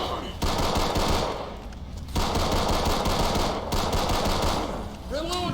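Dense automatic gunfire in the Left 4 Dead video game rattles in long continuous bursts with two brief pauses, loud and close, under excited player chatter.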